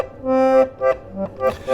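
A 1958 Hohner Organetta reed organ plays a few short, nasal reedy notes in quick succession, with loud and close breathy swells and brief gaps between them.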